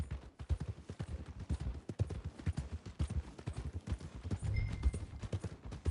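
Horse hooves clip-clop steadily in Red Dead Redemption 2, a continuous, fairly quiet rhythm of close, regular footfalls.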